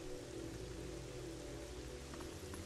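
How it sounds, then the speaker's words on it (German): Steady rain falls in the video game Zelda Twilight Princess HD, a soft continuous hiss heard alone at low volume. "Jetzt regnet es auch noch."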